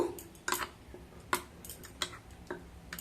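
A spoon clinks against a bowl as yogurt is stirred with cumin, garam masala and Kashmiri chili powder for doi rui. The taps are faint, irregular and close, with no talking.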